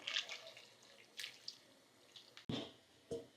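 Water is poured into a pan of bitter gourd curry, heard as faint splashes and drips that come in short bursts with quiet gaps between them.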